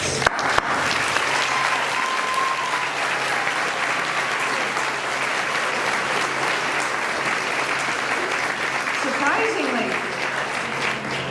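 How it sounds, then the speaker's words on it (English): Sustained applause from a large commencement ceremony crowd, steady and full for several seconds, with a few voices faintly audible underneath. "Grads, I want you to clap for your family and friends."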